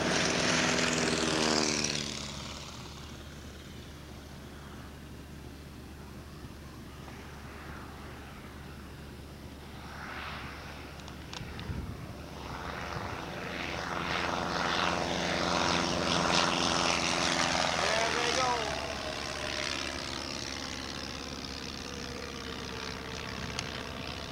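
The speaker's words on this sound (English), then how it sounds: "That's the Cessna 195 taking off." Cessna 195 light propeller aircraft taking off at a fly-in, its engine droning steadily and swelling as it climbs away, heard at a moderate distance.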